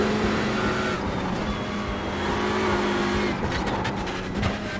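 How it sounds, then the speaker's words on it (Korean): A Hyundai race car engine in the iRacing video game drones steadily at high revs, its pitch shifting with gear changes, and ends in a burst of crackling pops. "막 지금 이제 기어 감겨가지고 계속 올라가는 소리 이런 거잘들려 팝콘 터지는 소리니 뭐니"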